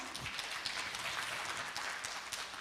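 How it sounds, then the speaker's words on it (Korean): Applause from an audience at a women's peace event in Jeonbuk, a steady wash of clapping that stays faint and distant throughout, with no voices over it. "박수 한번 보내주시죠"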